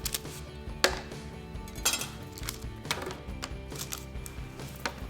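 Knife cutting a stick of butter into pieces on a board for a smoked sweet potato pie, a quiet series of soft irregular taps and clicks with faint background hum.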